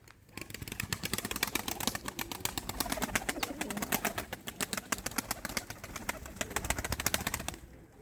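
Pigeons cooing and flapping their wings close by, with dense, rapid fluttering bursts that keep going through the whole stretch. There is no talk.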